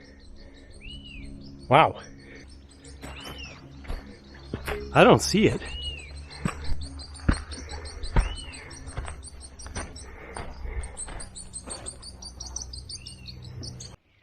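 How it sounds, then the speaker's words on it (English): A bird chirps loudly and rapidly on a steep forest trail, with repeated sharp, hyperactive calls and a few louder bursts near the start, insects buzzing faintly in the background and brief talk over it. "Do you hear that bird?"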